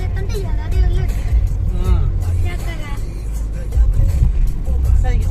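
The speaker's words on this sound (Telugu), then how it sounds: "ట్రాఫిక్ చూడు ఎంత ఉందో అసలుకే" Busy road traffic streams along Vizag beach road, cars and buses passing close with a continuous engine rumble and occasional horn-like tones, while people talk over it.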